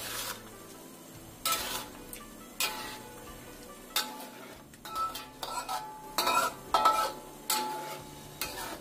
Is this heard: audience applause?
no